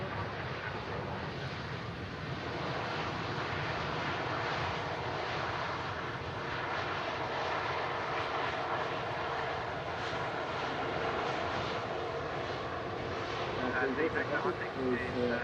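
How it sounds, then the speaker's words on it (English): A Virgin Airbus A350 jet airliner landing at Manchester Airport makes a sustained distant engine roar with a rushing, slightly rising texture, steady throughout and fairly faint, with no voices. "And as that Virgin A350 lands"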